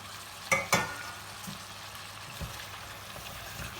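A spoon scrapes and tosses shredded cabbage and vegetables through a hot pan, two sharp clatters early on over a soft continuous sizzle, then lighter stirring knocks.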